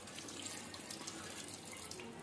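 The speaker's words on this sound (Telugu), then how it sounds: "వాటర్ యాడ్ చేసుకుందామండి మటన్లోకి" Water pours steadily into mutton in a clay pot, a soft continuous splashing stream at low volume with no talk.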